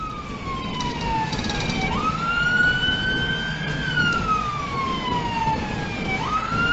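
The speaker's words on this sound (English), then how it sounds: "He flipped on his lights and sirens" A police siren wails continuously with sweeping rising and falling tones, loud and close, over the steady rumble of an engine.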